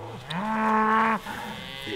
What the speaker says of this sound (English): Behind me here is the autumn calving herd. There's just under 160 cows and calves